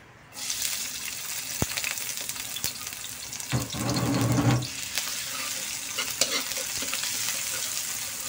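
Chopped onions sautéing in a hot pan for chicken caldereta, a steady close sizzle with a louder burst of frying and stirring midway, no talking.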